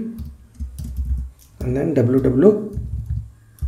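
Computer keyboard keys clatter in quick bursts while a person talks over them, fairly close and moderately loud.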